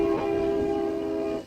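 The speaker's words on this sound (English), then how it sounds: "That's always a nice surprise in your town if your local train goes rushing by." A local train horn sounds as it passes through a town, one steady, fairly loud blast that holds for over a second and then cuts off, with no talking.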